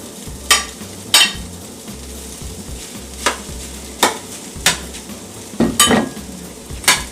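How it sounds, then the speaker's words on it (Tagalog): Rice is added to a frying pan of ham and egg fried rice and stirred, with sharp repeated scraping and clanking strokes of a utensil against the pan over a low sizzle. "At ang susunod natin na ilagay ang ating rice."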